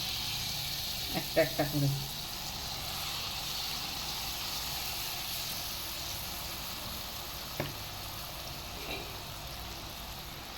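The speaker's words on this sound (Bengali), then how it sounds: "তেলটা গরম হয়ে গেছে, এবার আমি এর মধ্যে ব্যাটারটা দিয়ে দিচ্ছি" Jalebi batter frying in hot oil gives a steady, close sizzling hiss throughout, with a few brief clinks and someone speaking briefly over it.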